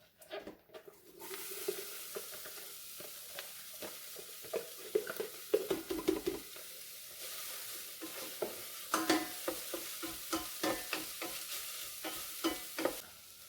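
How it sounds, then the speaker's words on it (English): Chopped onion sautéing in about half a tablespoon of oil in an Instant Pot Mini on its sauté setting, a steady close sizzle broken by repeated scraping stirs and clinks of a utensil against the pot. "setting our Instant Pot to saute, and we're going to add in about 1/2 a tablespoon of oil, and we're going to add in our onion"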